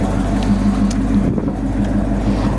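A lifted 1977 Ford F150 4x4 pickup with a V-8 and granny four-speed drives along at close range, its engine a steady loud rumble with slight fluctuations.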